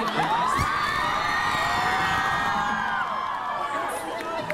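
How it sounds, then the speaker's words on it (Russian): A convention crowd at a Detroit: Become Human comic con cheers and whoops for cosplayers, a loud, continuous wash of shouts and whistles with voices calling out through it. "давайте проводим аплодисменты для наших косплееров"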